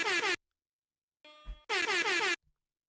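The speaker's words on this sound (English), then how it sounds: "What is my air horn doing?" Loud blasts of an air horn sound drop, two harsh bursts separated by a short gap with a brief electronic blip between them.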